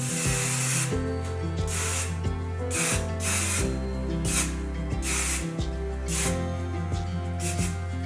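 Repeated bursts of Pantene hairspray hissing, short and long blasts in an uneven rhythm, close by, over a steady musical background.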